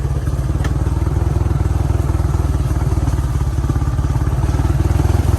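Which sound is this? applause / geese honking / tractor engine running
tractor engine running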